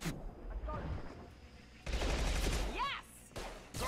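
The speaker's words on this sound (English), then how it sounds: "Submachine gun is good taking down shields." Submachine gun fire in the Mass Effect video game arrives in bursts of rapid shots amid game effects and swooping sounds, moderately loud with brief pauses between volleys.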